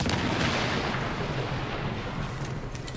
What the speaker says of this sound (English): I've got another gun that has sound effects issues.